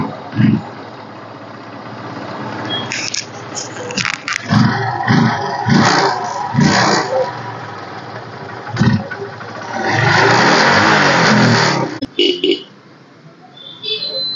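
A used ladies' scooter with self-start is started and revved: close, loud engine idling with uneven bursts of throttle, a sustained rev near the end, then a drop back to idle.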